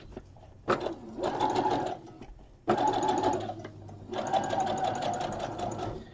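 A sewing machine stitches an 18-inch doll's garden tea dress in three close, steady whirring runs, each stopping briefly before the next starts.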